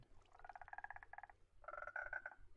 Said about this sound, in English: They have sounds now, which is amazing.